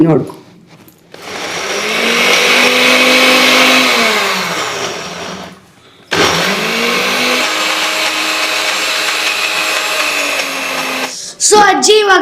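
A mixer grinder whirs loudly in two long bursts while grinding for green paper avalakki (flattened rice), stopping briefly between them, with a short clatter at the end.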